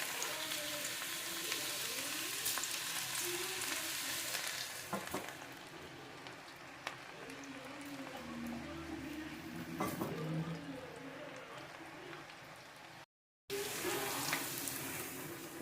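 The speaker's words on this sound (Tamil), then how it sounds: "நம்ம இதை வந்து எண்ணெயில் போட்டு பொரிச்சு எடுத்துடலாம்." Onion pakoda batter deep-fries in hot oil with a continuous sizzle and crackle. It fades somewhat midway, drops out briefly near the end, then returns.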